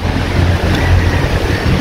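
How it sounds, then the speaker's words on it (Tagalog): Strong morning wind blowing steadily outdoors near water, a continuous rough rumble buffeting the microphone with no breaks and no voices. "Ang maganda dito mahangin."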